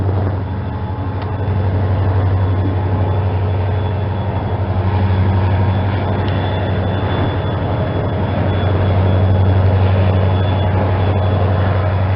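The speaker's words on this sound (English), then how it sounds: "pushing a coal train" A heavy, steady rumble of a freight locomotive pushing a coal train rolls on continuously, loud and close, with a constant low engine drone throughout.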